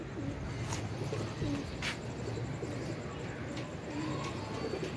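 Pigeons coo softly in the evening, low repeated calls over steady outdoor background noise, with a few sharp chirps breaking through now and then.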